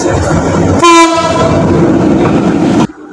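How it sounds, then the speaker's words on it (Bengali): The Panchagarh Express thunders through Tangail railway junction at high speed, its loud horn blaring briefly before a steady, close roar of wheels and rattling carriages continues, then cuts off abruptly. "পঞ্চগড় এক্সপ্রেস প্রবেশ করতেছে টাঙ্গাইল রেলওয়ে জংশনে"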